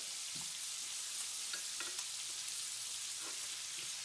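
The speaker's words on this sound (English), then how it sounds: "now as that butter starts to melt, those seasonings that were on that fish are also swimming around in that butter and cooking and flavoring that butter" Butter melts and sizzles in a hot pan beside seared salmon, giving a steady close crackle and hiss that runs unbroken for the whole stretch, with a few faint clicks and nothing else over it.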